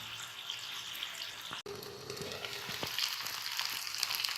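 Continental-style chicken roast frying in a pan, a steady close hiss and crackle that holds throughout with a brief break, with no talking.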